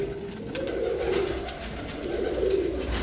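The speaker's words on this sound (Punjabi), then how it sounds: "ਤੇ ਬਾਹਰ ਵੀ ਕਬੂਤਰ ਹੈ" Pigeons coo outside in a soft, low repeating murmur, several drawn-out calls rising and falling over steady background hiss, moderately close and fairly quiet.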